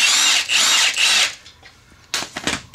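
Impact gun driving bolts while installing trailing arms on a RZR Turbo, three loud, sustained high-pitched whirring bursts close up, followed after a pause by several shorter rattling bursts.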